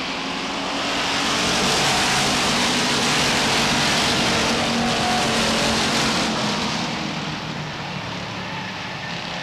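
Stock race cars roaring around the oval at Beech Ridge Motor Speedway in 1992, a dense loud wash of engines passing continuously, swelling and fading slightly as the pack goes by.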